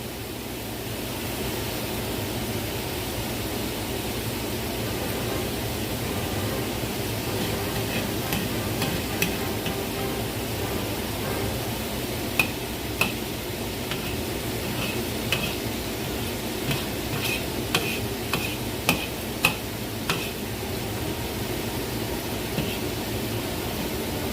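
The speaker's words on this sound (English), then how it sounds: "when you smell the pan fried meat flavor, so then you would have a bit of sear like that" Meat pan-frying and searing for lu rou fan gives a steady, broad sizzle that runs throughout, with sharp clicks and taps from stirring toward the end.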